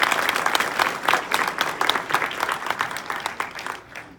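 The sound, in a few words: audience applause for panelists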